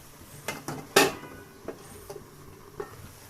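A metal lid set onto a cooking pot of simmering red amaranth and spinach greens, giving one sharp clank among a few lighter knocks and taps, close and clear with no talk.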